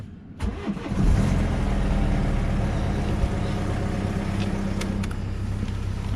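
A 2013 BMW F30 318d diesel cranks briefly and fires up, then settles into a steady, close, even idle.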